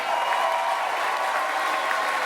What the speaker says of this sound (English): I want you to give them a great big round of applause.